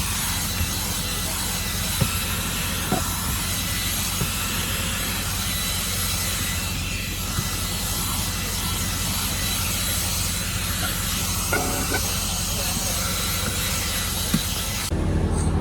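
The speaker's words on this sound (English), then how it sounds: "Then I like to add some steam, just so it's got a little extra water on it." A steam cleaner hisses steadily inside a semi truck's interior, a loud continuous rushing noise with no breaks, cutting off abruptly at the very end.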